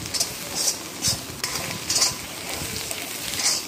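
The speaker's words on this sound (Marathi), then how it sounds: "हळद मसाला आपल्याला घालायचा आहे त्यामध्ये। आणि चांगलं परतून घ्यायचं आहे" Mutton stir-fried in a kadhai with turmeric and masala: a spatula scrapes the pan in regular, repeated strokes over a steady background hiss of frying.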